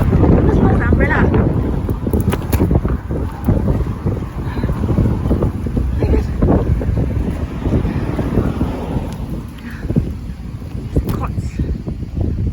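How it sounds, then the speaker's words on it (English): Gusty wind buffets an umbrella outdoors in a city street, a loud continuous roar of wind noise and flapping with rumbling bursts throughout, under occasional talk. "The wind does not want me to carry this umbrella"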